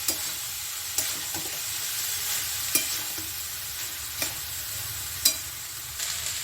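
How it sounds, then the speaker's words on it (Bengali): Cooked rice fries in a pan with a steady, close sizzle, punctuated by regular sharp clacks of a spatula scraping and tossing it every second or so, no voices. "এখন এই ভাতটাকে আমি ভালো করে ভেজে নেব"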